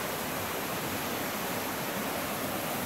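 A waterfall on a mountain hiking trail in the Georgia mountains rushes as a steady, dense roar that fills the whole clip evenly, close and constant, with no voices.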